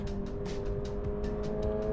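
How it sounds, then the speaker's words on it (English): The engine of a Subaru BRZ tS car drones steadily under load, with a rhythmic pulsing over a sustained hum, heard alone at moderate volume with no talk. "that engine noise is really going to help you with your shift points and understand where you're kind of at in the RPM range"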